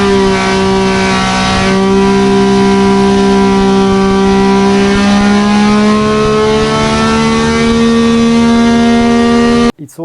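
A BTCC racing engine running on a test dyno in a thick-doored test room, a loud sustained steady drone with strong harmonic tones that shift slightly in pitch, cutting off abruptly near the end.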